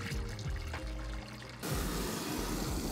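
Water pours from a hose into a plastic bathtub inside a camper, first a lighter trickling stream, then a sudden loud, full gushing rush that continues steadily to the end.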